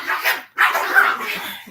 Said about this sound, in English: these dogs always try to make me look bad when I'm on live.